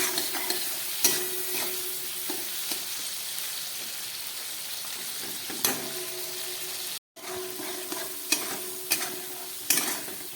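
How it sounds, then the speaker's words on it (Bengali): Prawns frying in a pan with salt and turmeric give a steady, close sizzle, broken by scattered sharp clicks and stirring scrapes, with a brief dropout partway through and no voices. "দিয়ে মাছটাকে আমি খুব ভালো করে এবার ভেজে নিচ্ছি।"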